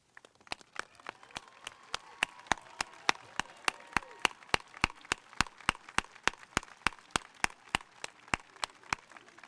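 Families and friends applaud graduates at a college commencement ceremony, with crisp, very regular claps sounding close and steady over a faint background of wider clapping.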